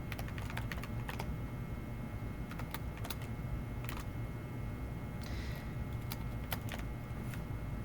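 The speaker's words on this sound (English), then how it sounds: "I'm just going to type press any key to continue." Steady clatter of keys on a computer keyboard, irregular bursts of quick taps with short pauses, close and fairly quiet over a low background hum.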